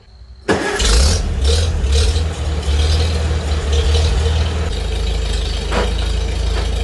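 A Farmall Super C tractor engine cranks and catches abruptly, then runs at a loud, steady, low rumbling idle close by, with a slight rise in revs early before settling into an even chug.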